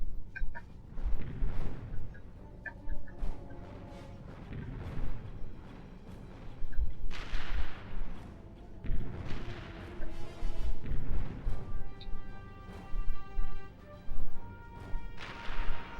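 Turrets in a Ratchet and Clank video game fire repeatedly, loud booming shots and crashing impacts in irregular bursts layered over game music.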